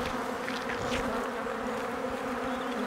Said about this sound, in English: it was just a bee coming onto my face